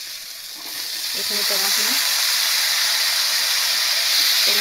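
Sliced bilimbi fries in a pan with potatoes, mint and coriander leaves for a fish curry, giving a steady, loud sizzling hiss that builds and holds, while a voice speaks briefly near the start.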